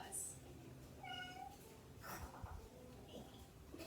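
A cat meows in a kindergarten lesson, a short, thin, close mew near the start followed by other faint sounds at low level, with a voice speaking softly around it.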